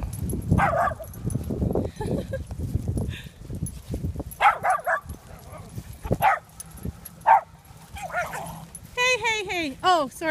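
A dog barks several times in sharp bursts, mixed with whimpers and high yips, close by during a morning walk, while people talk over the scene.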